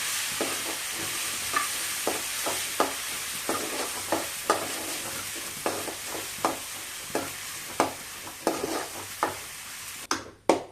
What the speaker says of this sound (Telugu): అల్లం పేస్ట్ బాగా వేగిందండి.